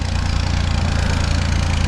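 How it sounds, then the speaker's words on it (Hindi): A heavily loaded tractor carrying people and cargo labors up a mountain track in Swat Valley, its engine a loud, continuous close-up drone with a steady low throb. "ट्रैक्टर को इन्होंने कैसे लोड किया हुआ है और आ रहा है पावर के साथ"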